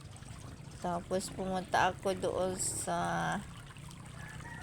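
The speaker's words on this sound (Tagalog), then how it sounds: "Masarap ng pakinggan ang agos ng tubig." Flowing water trickles steadily in a shallow, clear stream at an oyster-gathering spot, heard faintly beneath a person speaking close by.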